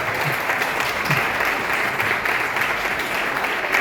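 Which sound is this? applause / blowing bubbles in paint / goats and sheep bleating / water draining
applause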